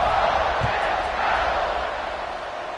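Large football stadium crowd at an Ole Miss game buzzing and cheering before a kickoff, a broad steady roar that fades slightly toward the end.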